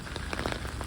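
Steady rain falls outdoors on a residential street in Bayside, Queens, a dense, even patter of drops close by with no voices.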